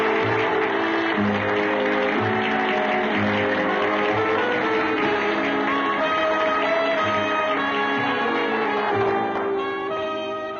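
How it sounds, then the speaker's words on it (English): Sustained audience applause in a 1962 film, bright dense clapping with a band or musical tones playing underneath, steady and loud throughout before easing slightly at the end. "they will be judged solely by your applause"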